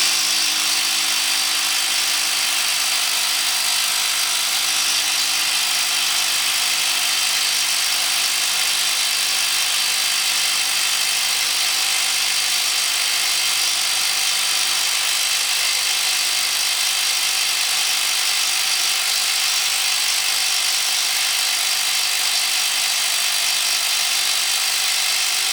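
A Milwaukee power tool runs continuously during a Shockwave socket adapter durability test, a steady loud mechanical whine and drone sustained without pause.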